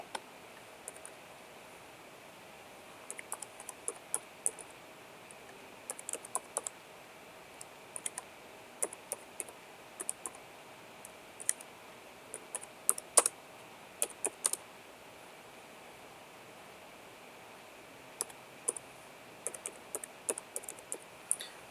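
A computer keyboard is typed on in scattered bursts of soft, close key clicks, spread over a quiet room tone with pauses between groups.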